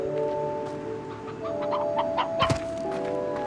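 Chickens in the video game Slime Rancher cluck in short, close bursts over a steady electronic music bed, the clucks growing busier toward the end.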